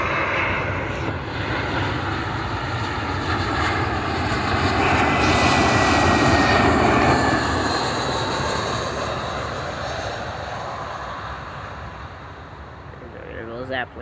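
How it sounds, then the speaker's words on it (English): A fixed-wing airplane passes overhead with a loud, broad engine roar that swells toward the middle and slowly fades, while voices speak over it. "There goes that plane."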